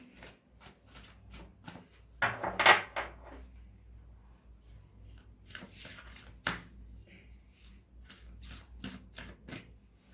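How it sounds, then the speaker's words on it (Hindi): A deck of tarot cards is shuffled up close: quick dry flicks and taps in uneven bursts, with one louder riffle, over a quiet room. "यहाँ पर आइए हम यहाँ शफल करते हैं"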